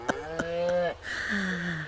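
A cow moos twice in a dramatized scene from a historical series: a long, low, harmonic lowing that ends abruptly, then a second, steadier call. Both are close and loud, with no talk over them.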